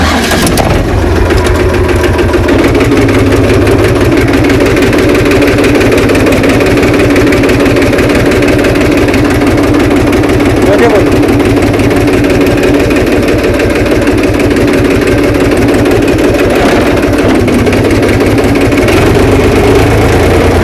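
A loud tractor engine runs steadily with a deep, throbbing low rumble throughout, close by and continuous, with no voices.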